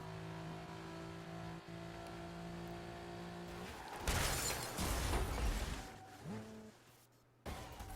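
A car engine hums at steady revs in the Burnout Paradise video game, then a loud crash of smashing metal and glass erupts midway, followed by a lower engine note and a brief silence before the sound resumes.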